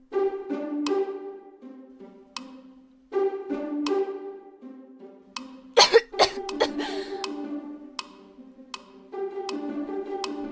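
A young woman with a sudden illness coughs in a short cluster of harsh, close bursts midway through, set against soft background music in a period drama scene.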